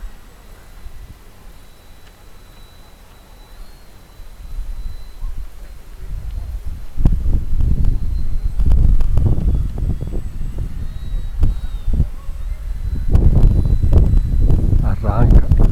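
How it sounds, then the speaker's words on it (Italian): Wind gusts buffet the microphone during an RC model plane flight in windy conditions, low rumbling bursts that grow louder and more frequent in the second half. "Guarda come me lo sposta il vento, me lo sposta lateralmente."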